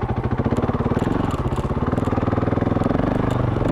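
A 2016 KTM 500 EXC dirt bike ridden through single track, its single-cylinder engine loud and close with a rapid, steady thumping pulse and a slight rise in revs.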